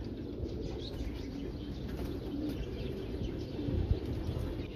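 Pigeons coo softly amid a low, steady rumble, with faint scattered wing flutters and small movements and a brief louder rustle near the end.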